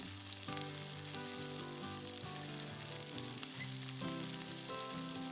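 Two spoons of chopped garlic fry in hot oil inside a pressure cooker, giving a steady, close sizzle that runs unbroken under a soft musical background.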